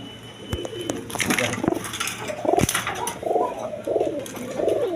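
A pair of adult Raj Golla pigeons coo in repeated soft, low bursts close by, with occasional clicks and someone talking over them.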